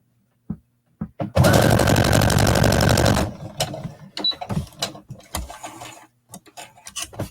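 A sewing machine stitches a jacket at shortened stitch length in one loud, steady run of about two seconds, preceded and followed by scattered clicks, taps and fabric handling.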